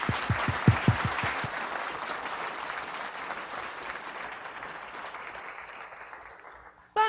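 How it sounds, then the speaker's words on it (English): An audience of ladies and gentlemen gives a round of applause for a deaf-support service in Malawi, a loud, dense wash of clapping that tapers gradually before ending abruptly. "please give them a round of applause for this service"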